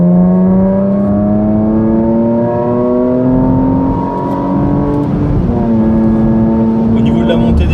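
Porsche Macan GTS accelerating out of a village: loud engine note rising steadily in pitch, dropping at a gear change midway, then climbing again, heard from inside the cabin.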